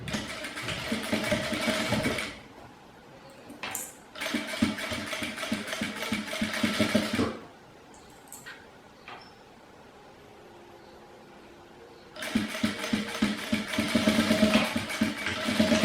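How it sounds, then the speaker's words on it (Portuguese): A sewing machine stitching close to the edge of a unisex fabric wallet, running in loud, rapid bursts of mechanical whirring separated by quiet pauses, heard close up without talk. "eu vou fazer a costurinha próximo da borda"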